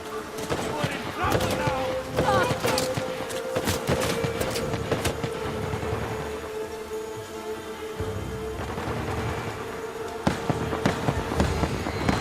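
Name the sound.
gunfire in the video game Uncharted: The Lost Legacy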